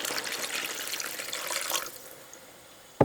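Coconut water is poured into a pan in a steady splashing stream that stops abruptly, followed by a short knock of the container.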